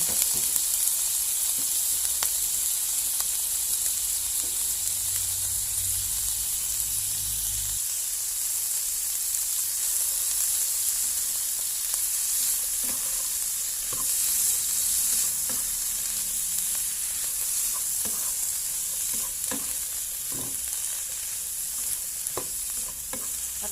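Shrimp and flowering chives stir-fried in a hot pan give a steady, loud sizzle throughout, with scattered scraping clicks and knocks of a utensil stirring against the pan and a low rumble in the opening seconds.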